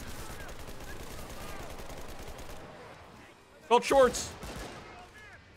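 Gunfire from a Type 2A gun in the World War II shooter Enlisted, zombie survival mode: a short loud burst of rapid shots stands out near the end, with players talking before and after.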